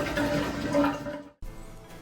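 Ethanol-free gasoline pours into the fuel tank of an old 1952 Ford F1 truck, a steady liquid gush for over a second before it cuts off abruptly, leaving a quieter trickle.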